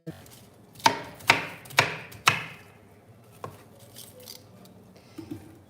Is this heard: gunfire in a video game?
no